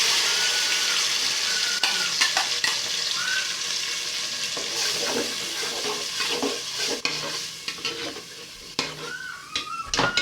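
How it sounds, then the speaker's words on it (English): Onions fry in a pot with blended pepper and tomato, giving a continuous loud sizzle close by, broken by the scrape and clink of a spoon stirring. "To fry our onions for 2 minutes before we add in the next ingredient"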